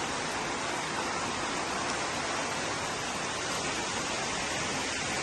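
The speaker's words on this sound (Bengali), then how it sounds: "দেখেন এখন কি জোরে বৃষ্টি পড়তেছে" Heavy rain pours down during a flood, a loud, unbroken hiss and roar of water that stays dense and even throughout, with no voices.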